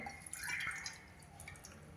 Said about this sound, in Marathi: मी त्याला इथे पाऊण वाटी पाणी घालणार आहे